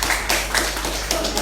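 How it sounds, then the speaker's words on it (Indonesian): Applause from a live audience in a backyard beer venue during a recorded talk show, dense patter of many hands filling the short moment at steady loudness, no talk over it. "Tepuk tangan dong"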